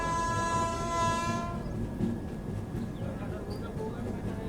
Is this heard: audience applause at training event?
no